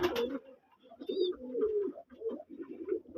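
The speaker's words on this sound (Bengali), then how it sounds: "এটা হলো একটা মাদি কবুতর" A female domestic pigeon on a local pigeon farm gives soft, low, throaty coos in a rolling series, close and fairly quiet, with a brief faint chirp partway through.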